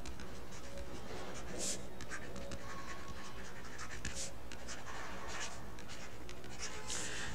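A pen scratching steadily across paper up close, continuous writing strokes with short pauses and no talking.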